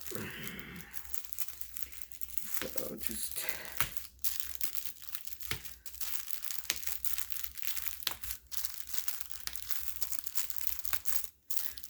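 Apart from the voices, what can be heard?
ripping tissue paper off a machine-quilted quilt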